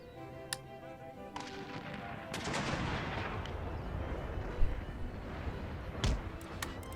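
Musket volleys and artillery fire in a war video game battle, with scattered sharp cracks and a dense rumbling barrage building in the middle, heard at a moderate distance.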